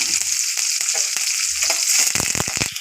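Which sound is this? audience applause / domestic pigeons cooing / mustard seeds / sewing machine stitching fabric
mustard seeds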